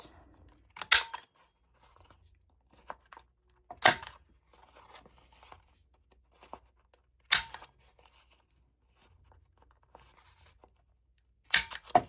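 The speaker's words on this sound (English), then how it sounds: "I'm going to go ahead and round my corners." Four crisp, short clipping snaps spaced a few seconds apart as a corner rounder trims the corners of a damp, glued paper card, with quiet rustling of paper and handling noise between them.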